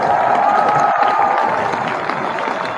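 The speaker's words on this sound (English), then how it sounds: "I got to give you some hand claps." Crowd cheering and clapping hands, loud and steady, a dense wash of voices and claps with no clear single claps standing out.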